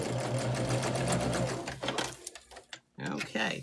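A sewing machine stitches a seam on a patchwork pillowcase, a steady close motor whir with rapid needle rhythm, then stopping and starting in short bursts, with a voice speaking over it.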